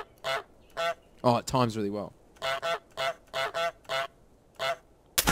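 Repeated honks from a goose in a video game, about a dozen loud, evenly spaced calls with a brief flurry of rapid honking near the middle, while someone talks briefly over them.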